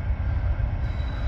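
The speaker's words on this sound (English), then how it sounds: "we heard another train coming" Norfolk Southern freight train rolling past outdoors, a steady loud low rumble of wheels and cars that holds without a break, with no horn and no voices.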